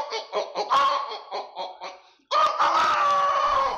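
A ventriloquist mimic voices a chicken, producing a run of rhythmic clucks followed by a long, loud drawn-out crowing call, all made by a human voice.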